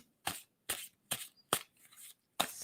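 A deck of tarot cards is shuffled by hand, a few separate crisp papery slaps spaced about half a second apart, close up with nothing else audible.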